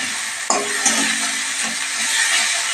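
Chicken being stirred in a hot pan with chili powder, giving a steady broadband sizzle and hiss with faint scraping knocks from the stirring, continuous and fairly loud throughout.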